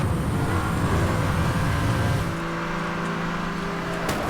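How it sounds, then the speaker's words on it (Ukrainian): A Porsche in Need for Speed: Hot Pursuit (2010) roars close by during a race, its engine note steady and loud, then shifting to a lower droning hum as it pulls alongside to overtake. "намагається мене обігнати цей порш"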